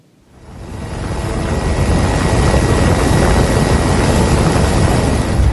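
Military transport helicopter, an EC-725/H225M Caracal of the Indonesian Air Force, making a limited landing in a flood-isolated area; a loud, steady rotor and turbine roar swells in quickly and holds, dense and close, with no talk.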